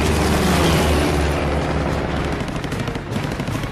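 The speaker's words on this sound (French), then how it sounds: "Tout à coup, les balles traçantes fusent autour du P-40." Rapid machine-gun fire and bursts of tracer rounds crackle around a P-40 fighter in a 1941–43 Flying Tigers air fight, loud and dense throughout with a rumbling undertone that eases slightly toward the end.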